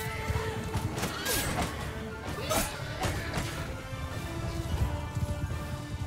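A horse whinnies and screams amid clattering hooves and the crash of a chaotic medieval battle in the video game Mount & Blade II Bannerlord, as the mount is cut down beneath its rider; loud, dense combat noise throughout.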